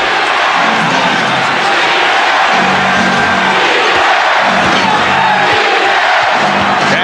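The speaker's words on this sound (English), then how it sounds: "Defense from this foreign crowd." A basketball arena crowd at the 1991 NBA Finals Game 5, Bulls at Lakers in Los Angeles, chanting defense as a loud, continuous roar with rhythmic swells throughout.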